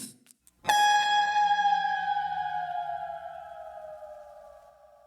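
Single sustained tonal note processed with a pitch drop effect in Mixcraft, a sharp attack after a few faint clicks, then the tone slowly gliding downward and fading over several seconds, clean and alone.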